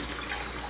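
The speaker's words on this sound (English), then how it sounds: "I'm going to add 3/4 of a cup of warm water." Warm water pours steadily into a mixer bowl for bread dough, a brief, soft, continuous splashing rush.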